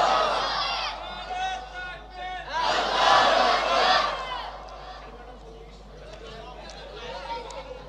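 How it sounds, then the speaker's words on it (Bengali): A crowd at a political rally in Gaibandha shouts slogans in unison, loud rising waves of many voices that swell to a peak and then ease into scattered chatter. "একটা যুবকোটে স্লোগান দিবেন, দেখবো কার গলায় কেমন জোর স্লোগান দেন"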